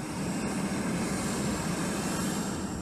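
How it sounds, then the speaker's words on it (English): GE9X jet engine running on an outdoor test stand in Ohio, a steady broad roar that holds evenly loud throughout with no talk. "This outdoor facility provides a safe environment to fire the engine and check its"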